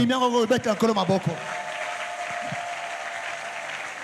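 Congregation at an Easter seminar church service bursts into steady, sustained applause and acclaim, rising right after a voice speaking briefly at the start and continuing evenly to the end.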